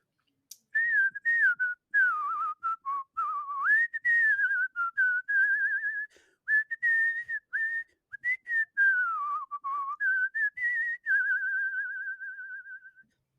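Someone whistles a tune from Robin Hood, a steady melodic line running alone through the whole stretch, close and clear, with brief breaths between phrases.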